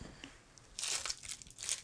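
Plastic bags of gummy bears crinkle and rustle in bursts, soft at first and then louder and more continuous, close to the microphone with no one speaking.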